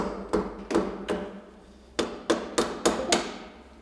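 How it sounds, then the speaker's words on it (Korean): A hammer strikes a corroded engine thermostat housing repeatedly, sharp metallic knocks close by in two bursts, three blows then a short pause and five more, with no talking. "지금 망치로 때려서"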